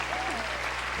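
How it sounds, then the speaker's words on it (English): A studio audience on a 1975 musical game show bursts into brief, dense applause, a close wash of clapping with a faint voice rising through it. "give ourselves a round of applause"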